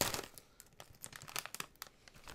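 Resealable popcorn bag crinkled by hand, a run of dry plastic crackles and rustles up close with sharp bursts scattered through the stretch, no talking.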